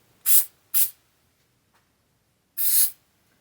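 Spray adhesive hisses onto a Sprite car door liner in three short bursts, two quick ones then a longer one after a pause, close and loud with quiet between.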